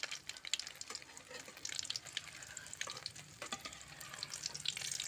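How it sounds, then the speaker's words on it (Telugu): An egg omelette frying in a pan, a faint, continuous crackling sizzle with small scrapes and pops throughout, heard quietly with no speech. "ఆమ్లెట్ కొంచెం వేగిన తర్వాత దాన్ని రెండో సైడ్కి తిప్పుకోవాలి"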